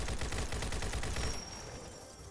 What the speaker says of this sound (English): Feel the power of the raw loud AK.